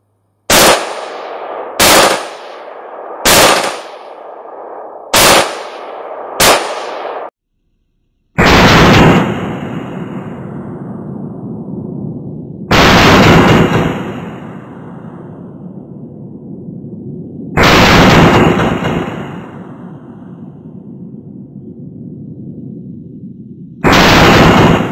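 Black rifle fired at an outdoor shooting range: five quick, loud single shots in an even rhythm, then four heavier blasts spaced several seconds apart, each trailing into a long, booming echo.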